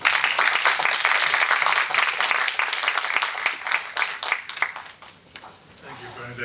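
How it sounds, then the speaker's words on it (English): An audience at a technology lecture applauds to welcome a professor to the stage, a loud sustained wash of clapping from many hands that gradually fades toward the end. "A huge round of applause"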